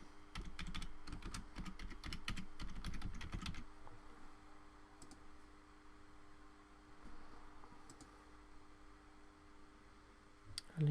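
Fingers type on a computer keyboard in a quiet room, with dense bursts of clicking keystrokes at first, then sparse, occasional taps over a low steady hum.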